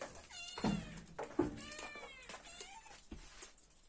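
Cats at feeding time in a Turkish village meow repeatedly, several loud, close calls overlapping one another, over quiet background noise with no speech.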